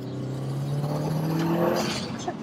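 Subaru Impreza STI hatch, a JDM car with a 2.1-litre stroker engine making 420 bhp, accelerating hard: a steady rising engine drone heard from inside the cabin, loud and continuous with no talk over it.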